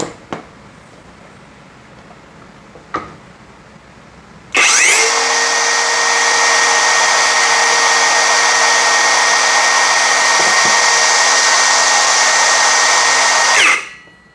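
A mini cordless circular saw runs at its high speed setting, spinning up abruptly after a few faint clicks into a loud, steady, high-pitched whine with a constant hum. It holds for about nine seconds and then cuts off.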